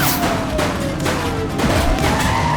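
Rapid bursts of gunfire in the police video game Precinct, loud and close, the shots overlapping into a dense volley that runs without a break.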